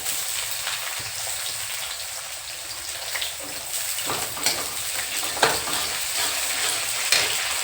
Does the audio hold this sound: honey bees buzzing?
no